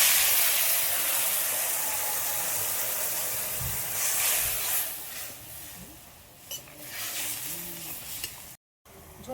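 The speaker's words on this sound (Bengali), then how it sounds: "ঝোলটা ফুটে উঠেছে" Broth with black cumin and green chillies bubbles and sizzles in a pan, a loud hissing boil that gradually settles into softer, uneven bubbling with a few stirring clinks.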